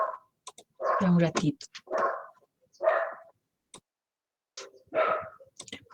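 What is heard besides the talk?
dogs barking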